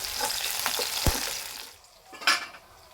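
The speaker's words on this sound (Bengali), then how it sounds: "পেঁয়াজ হালকা লাল করে ভেজে নেব।" Onions fry in hot oil in a pan, giving a steady close sizzle with a couple of stirring scrapes and knocks, fading slightly toward the end.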